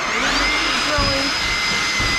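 A loud, steady high-pitched whine of a heavy drill running continuously in a basement, with a grinding drone underneath.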